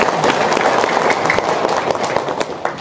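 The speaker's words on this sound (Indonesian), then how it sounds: "Sep, tepuk tangan dong, luar biasa" An audience at a seminar claps loudly and close by in a brief, dense burst of many hands with sharp individual slaps, and a few voices are mixed in.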